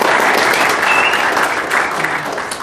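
Loud, dense audience applause at a droid-building fan event, a steady wash of many hands clapping that fades slightly toward the end.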